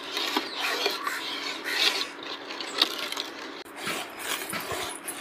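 Sugar mixture being stirred in a pan over a low flame for strawberry ice cream gives a steady scraping, rasping rub that runs continuously at close range.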